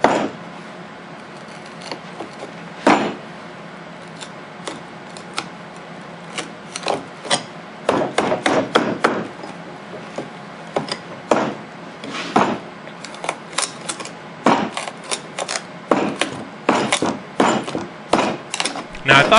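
A Benchmade 375 Adamas knife stabs and pries a wood block with and against the grain, making dense irregular cracks, creaks and sharp snaps that build into rapid clusters toward the end.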